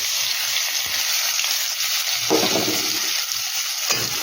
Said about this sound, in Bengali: কালো জিরা ফোড়ন দিয়ে দিলাম দিয়ে দিলাম পেঁয়াজ